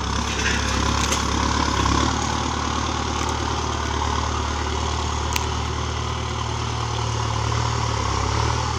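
A Kubota M6040 tractor engine runs steadily at close range on a rough, rocky track, its deep low rumble and idle-like drone continuous and loud throughout with no talking.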